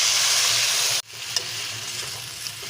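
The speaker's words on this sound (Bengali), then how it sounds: "দিয়ে একটু ভালো করে নাড়াচাড়া করে নেব আমি জল দিয়ে দিলাম" Vegetable curry with fried bori in a hot pan, a loud steady sizzle that cuts off abruptly as water goes in, then a quieter bubbling hiss with a couple of stirring knocks, up close and without voices.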